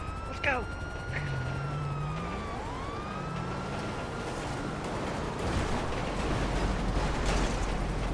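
A police car siren from Grand Theft Auto V wails and sweeps up and down over a steady rumble of game traffic, with a brief yelp burst at the start and a voice exclaiming alongside.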